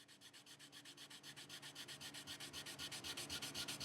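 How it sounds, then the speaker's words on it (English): Maple dowels glued into a Gretsch Junior Jet parts-guitar body being sanded by hand, a steady rhythmic back-and-forth rasp of roughly eight strokes per second, close and even with no talking. "Sand everything."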